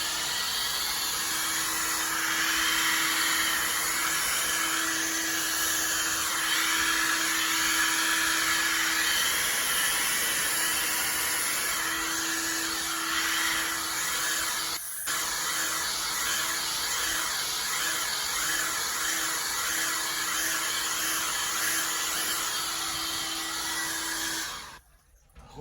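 Heat tool blowing on high fan with cool temperature, a loud steady airy roar with a faint whine, running continuously for about twenty-five seconds with a brief dip midway.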